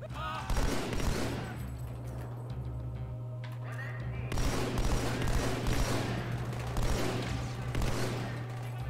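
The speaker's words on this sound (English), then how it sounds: "How is this guy still alive? I shot him so many times." Guns firing in Halo 2: Anniversary on Legendary in the Outskirts level, repeated heavy bursts of gunfire in several waves over a constant low hum, loud and close.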